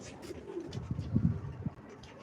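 Soft, low pigeon coos come in a short rhythmic series in Ankara, close but quiet, with faint background noise.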